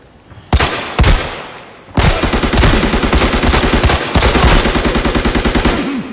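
Gunfire in the video game Arena Breakout: two single shots, then long rapid automatic bursts, loud and close, with no talk.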